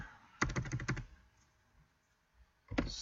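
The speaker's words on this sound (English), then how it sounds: "we'll type something very, very simple." Rapid keystrokes on a computer keyboard, a quick cluster of about six clicks, a short pause, then another burst, close and fairly quiet with no talking.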